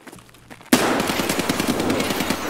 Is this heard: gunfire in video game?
yes